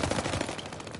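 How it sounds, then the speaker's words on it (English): Tommy gun fire in the shooter Call of Duty: Vanguard, a rapid, steady stream of close automatic shots lasting about a second. "This guy's using a Tommy gun."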